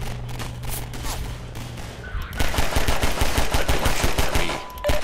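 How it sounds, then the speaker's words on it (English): Enemy gunfire in Half-Life 2: a steady hum gives way to dense, rapid bursts of automatic shots, loud and continuous for several seconds, with no talking. "What are they shooting at in the air?"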